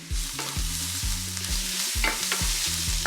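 Paprika and cumin cook in a pan over medium heat for shakshuka, giving a close, steady sizzle broken by repeated scraping stirs, with low tonal notes running underneath.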